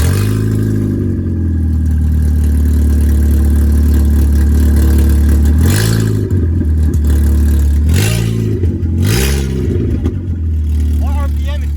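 Volkswagen Jetta 2.0 with a straight-pipe exhaust, loud raw drone at steady revs, then several sharp blips rising and dropping back, close up, with people talking in the background.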